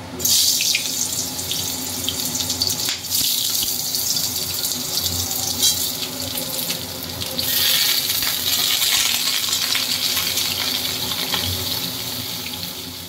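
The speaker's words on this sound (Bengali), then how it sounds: "এবার আমি এর মধ্যে ঝিঙেগুলো দিয়ে দিচ্ছি।" Sliced ridge gourd goes into hot oil with nigella seeds in a pan, raising a loud, continuous sizzle and hiss that swells again midway and tapers slightly toward the end, with no talking.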